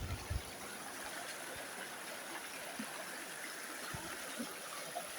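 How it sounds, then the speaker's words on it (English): A river stream flows steadily with a constant broadband rush and faint trickling, with a few soft low knocks near the start, no voices. "And look at the river now."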